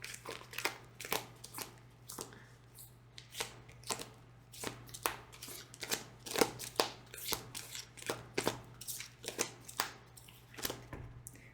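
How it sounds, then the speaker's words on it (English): A tarot card deck is shuffled close by in soft, crisp riffling bursts, repeated irregularly over a quiet background hum. "this deck is like kind of hard to shuffle."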